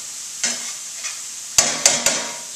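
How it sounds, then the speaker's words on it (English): Mushrooms and golden-browned onions sizzle softly in a pan as a utensil stirs and flips them, with several distinct scraping strokes, the last three sharp and close together. "we'll flip around these mushrooms a little bit"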